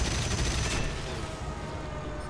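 Continuous rapid gunfire rattling over a dense roar of engine noise in War Thunder, from a Yak-3 fighter dogfight, loud and sustained throughout, fading slightly toward the end.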